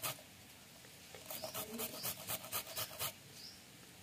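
Carrots rubbed by hand against a grater, a run of about eight quick, close, rasping scrapes in a steady rhythm, fairly faint.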